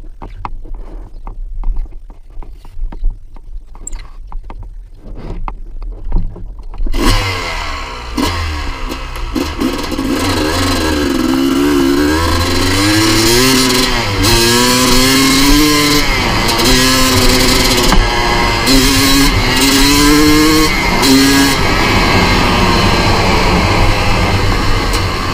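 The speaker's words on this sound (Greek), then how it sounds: "το μηχανάκι είναι σκοτόστρα. Έχει πολύ δύναμη." A few quiet clicks and knocks, then a rebuilt Honda CR250 two-stroke motorcycle engine starts and revs repeatedly, its buzzy pitch rising and falling loudly up close.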